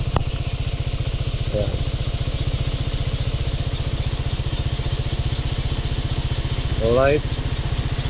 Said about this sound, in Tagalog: Lagi sila dadaanan ng mga motorista, mga biker, rider.